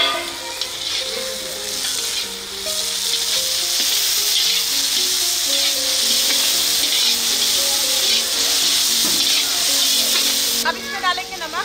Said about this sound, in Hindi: इसमें अब हम डालेंगे कटा हुआ टमाटर